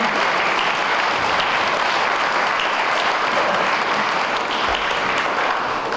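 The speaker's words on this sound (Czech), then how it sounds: "ještě jednou potlesk pro pana oceněného pana Jaromíra Přikryla." Loud, dense applause from a hall audience at an award ceremony, a continuous even roar of many hands clapping for the full six seconds.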